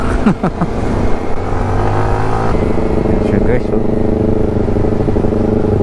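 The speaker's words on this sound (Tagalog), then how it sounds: "may nakasabayan pa kong big bike" A big bike motorcycle ridden on the road alongside the recorder rumbles with a steady engine drone and shifting pitch as it passes close by, while someone talks and laughs over it.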